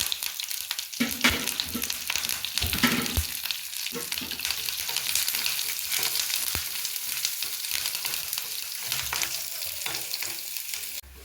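Mustard seeds, curry leaves and crushed garlic fry in hot oil in a pan for chutney powder, giving a loud, steady sizzle and crackle with occasional stirring scrapes throughout.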